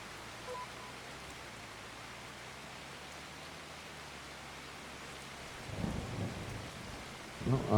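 Steady hiss of rain in the video game Farming Simulator 25 falls throughout, with low rumbles of thunder rolling in near the end, growing louder in the final seconds.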